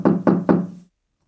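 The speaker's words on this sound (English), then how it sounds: "only to wake up to the knocking again" Three firm knocks on a door in quick, even succession, close and loud, followed by silence.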